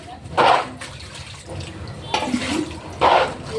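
Water poured out in several separate splashy bursts while a temple is cleaned, each gush lasting about half a second, heard close, with quieter background sounds between the pours.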